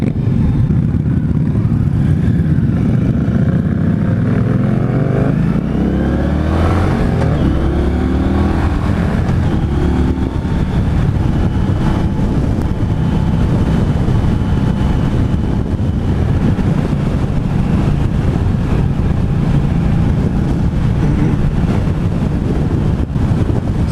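A 2016 Indian Scout Sixty motorcycle cruises in sixth gear, its steady low engine drone heavily mixed with loud, continuous wind buffeting across the microphone, with no talk heard.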